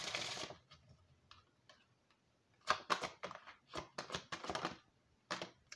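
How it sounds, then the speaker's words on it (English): Oracle cards riffled in a bridge shuffle: a brief burst of fluttering card flaps, then scattered soft taps and several quick clustered clicks and riffles as the deck is squared, close and quiet, no talking. "Let's get one good old bridge shuffle on this as well."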